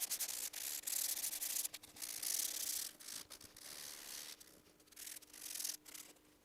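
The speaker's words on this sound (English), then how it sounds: "So the first round of sanding is done with 220" Sandpaper of 220 grit rubs back and forth across a Honda Civic Si hood, a close, hissy, rhythmic scratching in uneven strokes with no voices.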